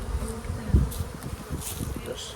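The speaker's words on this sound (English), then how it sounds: "there's a bee coming out right now" Honey bees buzz in an open hive with emerging brood, a close, steady insect hum of moderate loudness with a few low bumps.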